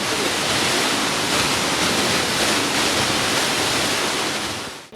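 A modern washing installation sprays a trolleybus with loud, dense, continuous water jets that roar evenly throughout, then cut off abruptly at the very end.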